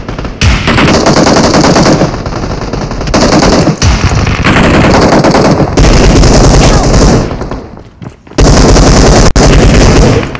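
Sustained automatic gunfire from PUBG Mobile on the Livik map, loud and nearly continuous bursts with brief pauses around the middle and near the end, dense and close.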